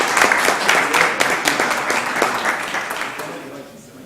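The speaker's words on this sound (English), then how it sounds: "Let's give them a round of applause" Applause from the audience at a city council meeting in Columbus, Georgia, steady dense clapping that fills the room for about four seconds before gradually thinning out.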